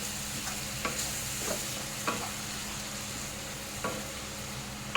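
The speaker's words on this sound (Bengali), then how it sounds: "ভালো করে মশলাগুলো কষিয়ে এবারে অল্প জল দিয়ে মশলাটাকে ভালো করে কষিয়ে নেব" Spice masala for stingray curry being sautéed in a pan with a little water, producing a low steady sizzle punctuated by several distinct stirring scrapes spaced about a second apart.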